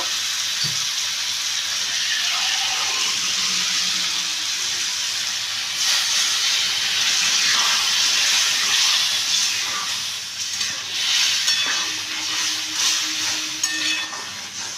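Water poured into ridge gourd and potato frying in a pan sets off a loud, steady hiss of steam and sizzle that stays strong throughout, with no talking.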